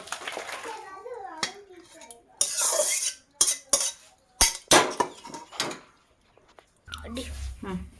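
A spoon scrapes and clinks against a pot while rohu fish curry with taro and tomato is ladled into a bowl, close metallic knocks and scrapes mixed with a person talking.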